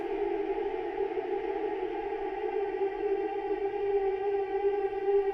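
A Yamaha DX7-style FM synth preset from the Arturia DX7 V plays a sustained, steady tone with strong harmonics and a slightly wavering, chorus-like shimmer, holding at a moderate level throughout with no talk.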